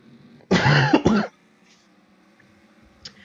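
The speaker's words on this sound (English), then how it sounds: "my throat is feeling a little funny today, so that's why I'm coughing a couple times here today." A man coughs and clears his throat in two quick, close bursts, followed by near silence and a faint click.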